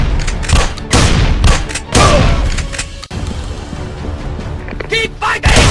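Mobile shooter Fire Force Battleground Survival with loud bursts of gunfire and heavy booms in quick volleys, dense and close, some short pauses between salvos and a clipped voice callout amid the fighting.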